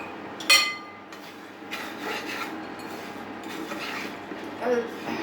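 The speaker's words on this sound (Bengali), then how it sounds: "সেমাইটা দিয়ে নাড়তে হবে, খুব ভালো করে নাড়তে হবে।" Vermicelli for Nawabi shemai stirred in a pan over low heat, giving a steady close scraping and rubbing with a sharp metallic clink near the start and a few softer knocks later.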